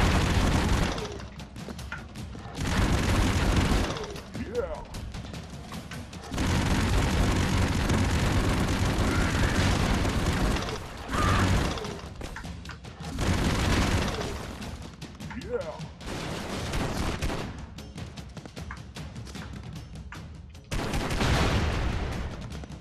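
A minigun in the game Expendabros roars in long sustained bursts, several loud stretches of rapid fire separated by short pauses, with booms and explosions mixed in.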